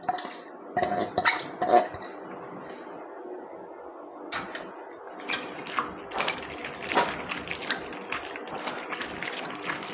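Pieces of bitter gourd are rubbed and rinsed in water inside a metal vessel. Close, clattering scrapes and knocks of the vessel mix with soft sloshing water, with a loud burst at the start and then steady clinks.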